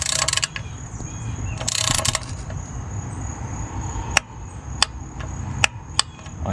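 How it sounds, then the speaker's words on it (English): Ford F-150 transmission pan bolts are tightened to spec, beginning with bursts of ratchet clicking and then a few separate sharp metallic clicks over a low workshop rumble, all close by and with no talking. "Now you want to tighten all these bolts to 106 inch-pounds"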